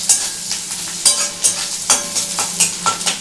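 Onions frying in a pan with a pinch of sugar are stirred by hand, giving about eight quick, rhythmic scraping strokes over a soft sizzle, close and clear with no talking.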